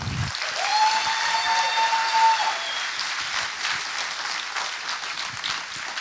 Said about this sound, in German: Wir wollen einen Applaus geben für ihn